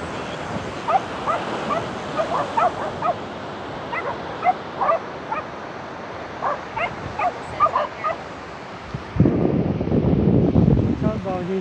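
Dogs on a San Diego beach give repeated short barks and yips with a few whimpers, moderately near, over steady wind noise; a louder burst of wind or surf rumble comes in near the end.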